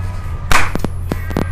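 A single loud clap in a casual room among friends, followed by a few softer, scattered claps over a steady low background hum.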